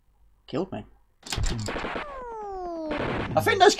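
Cannon fire in the Amiga game North & South comes as synthesized booms and falling, whistling tones mixed with short game effects, while a voice talks over them.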